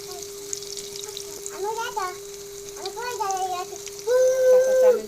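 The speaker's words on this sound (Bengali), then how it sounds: "এক এক করে পেঁয়াজগুলো দিয়ে দিচ্ছি ফ্রাই প্যানে।" Onions sizzling in a frying pan, a soft steady hiss sitting under a constant hum and several rising, voice-like tonal sounds that come and go over it.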